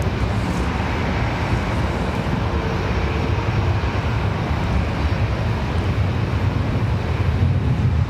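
A Delta airliner taking off from Raleigh-Durham, a loud, steady rumbling engine roar with gusty wind buffeting, close and continuous throughout.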